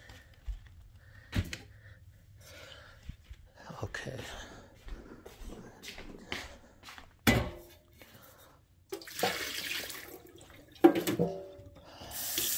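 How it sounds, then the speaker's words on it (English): Tap water running and splashing as a cat's bowl is emptied of yesterday's water and refilled with fresh, with clinks of dishes in a quiet home, the bursts coming in brief uneven spells. "Replace the water left from yesterday with the fresh one."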